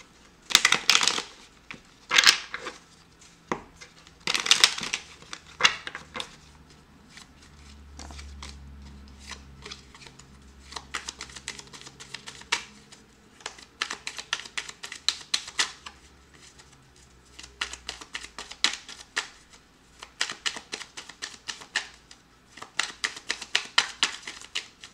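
Playing cards riffle-shuffled again and again, crisp bursts of flapping paper with short pauses between shuffles, close and fairly loud.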